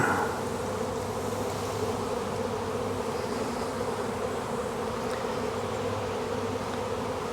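A honeybee swarm in an apiary gives a dense, continuous buzzing drone that stays loud and steady throughout, close to the listener, with no speech.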